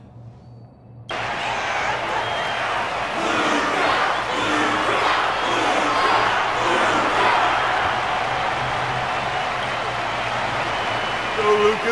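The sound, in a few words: crowd applause and cheering in a video game arena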